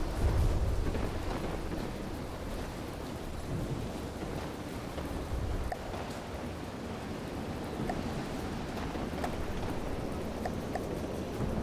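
A heavy thunderstorm rages at sea in the video game From the Depths: rolling low rumbles of thunder sit over constant rain and wash of waves, loud and continuous, with no one speaking.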